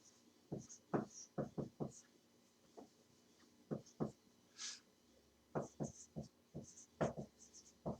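A pen writing on paper while working through a chemistry example, making short, quiet scratchy strokes in irregular bursts, close to the microphone, with a brief soft breath or murmur partway through.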